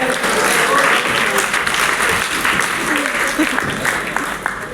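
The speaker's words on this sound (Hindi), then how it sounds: "बच्चे के लिए जोरदार ताली ना" An audience gives loud, sustained applause for a child, a dense continuous wash of clapping that fills the clip, with voices mixed in.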